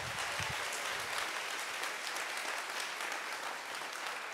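Audience applause fills a convention opening ceremony hall in a steady, dense wash of many hands clapping, heard from a distance and continuing throughout without talk.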